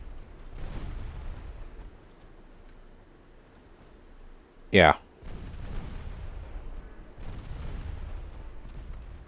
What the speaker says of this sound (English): I guess they're just sailors firing deck guns with open sights.